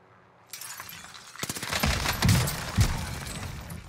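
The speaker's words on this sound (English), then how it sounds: "my man really just bazooka'd at me" Bazooka rockets exploding in the Call of Duty: Warzone Pacific shooter, a series of sharp crashing blasts with a rattle of gunfire, the heaviest booms landing in quick succession near the end.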